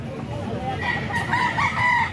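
A young fighting stag crows close by, a strained drawn-out call rising and falling over about a second, with other fowl and faint voices in the background.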